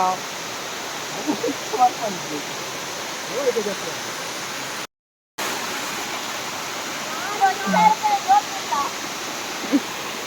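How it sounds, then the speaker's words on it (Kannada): A small mini waterfall pours steadily outdoors, a dense, continuous rushing wash that fills the whole scene at a constant level, with a brief dropout partway through and no clear voices over it. "ಫಾಲ್ಸ್ ತೂದ ಉಂಡು ಮಿನಿ ಫಾಲ್ಸ್"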